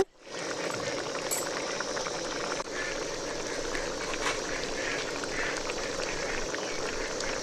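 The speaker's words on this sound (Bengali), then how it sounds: "টকবক করে ফুটছে" Egg curry bubbling in a pot on the stove, a steady, soft, continuous simmer and gurgle that holds level throughout with no talk over it.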